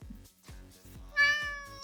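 A cat lets out a single clear, rising meow after a few soft low thumps, close and fairly quiet with no talk.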